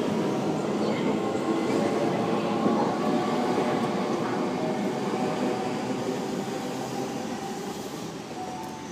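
A Sydney Trains S set pulls away from Redfern station with a loud, continuous rail rumble and wheel clatter that slowly fades as it departs.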